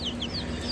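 A tiny chicken, a very small breed, clucks in a few quick, high chirpy calls close by over a steady low background hum, with no talk.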